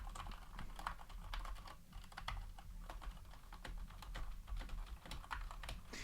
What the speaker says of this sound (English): that was the sound of me trying to hit about damn every key